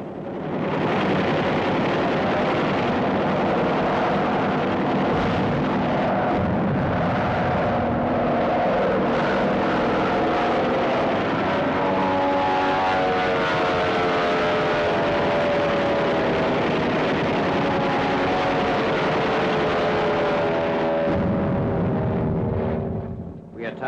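World War II bomber and fighter aircraft engines drone loudly and continuously in flight, a thick, sustained roar with wavering tones that swells and holds for over twenty seconds before fading slightly at the end.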